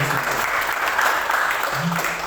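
A church congregation claps steadily throughout, a dense, even wash of applause filling the room, with a voice faintly present underneath.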